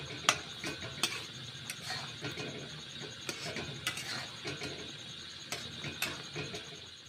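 A spoon stirring black pepper powder into an okra curry in a pan, with repeated clicking scrapes against the metal at an uneven rhythm over a steady low background.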